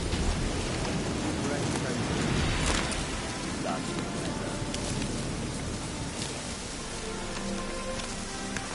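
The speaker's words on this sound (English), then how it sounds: "Looks like rain." Rain falls steadily in a video game, a dense continuous hiss of drops on surfaces that holds at an even level throughout, with a faint voice murmuring beneath.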